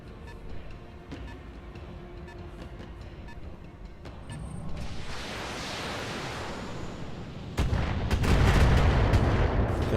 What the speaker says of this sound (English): I'm under heavy fire.